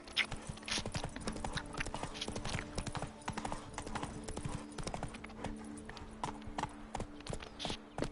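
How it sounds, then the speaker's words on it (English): Horse hooves galloping in The Witcher 3: Blood and Wine, a steady rapid clip-clop running throughout, with game music and ambience underneath. "Run, Roach."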